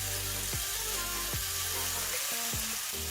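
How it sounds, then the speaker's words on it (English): Curry frying in a pan for Guyanese-style curry chicken, a steady, loud sizzle throughout, with a few brief scrapes or knocks of a utensil over it. "Okay, so now we fry our curry."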